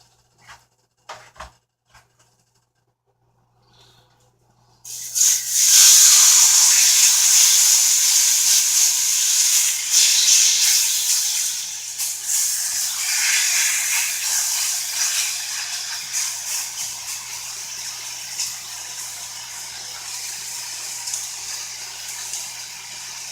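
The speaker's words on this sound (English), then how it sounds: "Throw it in the fry pan, get it nice and brown, almost crispy, not burnt" Flank steak sizzles loudly in a fry pan while browning to a crisp, a sudden burst of steady hissing that begins after a quiet start and keeps going strongly with small crackles.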